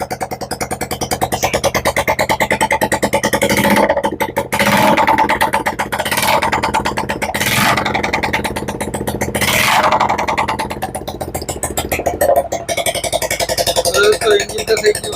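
A freshly repaired motorcycle engine runs with its silencer removed, a loud rough idle that revs up several times in surges, with people talking over it.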